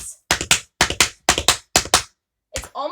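Fast tap dance riffles, step, scuff and brush, as sharp paired metallic clicks in quick triplet bursts, four groups in a row then a pause and one more strike, close and crisp.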